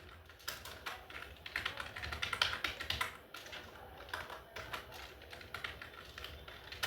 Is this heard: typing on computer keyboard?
yes